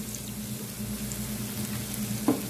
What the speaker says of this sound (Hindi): अब इसके अंदर हम झींगे को डाल देंगे और इसे एक मिनट फ्राई कर लेंगे